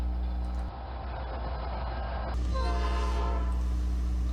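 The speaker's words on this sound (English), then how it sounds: "Train D09, a 50-car grain extra, pulls by the Evergreen FS elevator at Alton, where it was loaded." A 50-car freight grain extra rolls past a grain elevator at Alton in McLean County, Illinois, with a low, steady rail rumble and a loud, sustained horn blast sounding close by.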